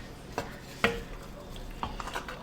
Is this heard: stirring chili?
yes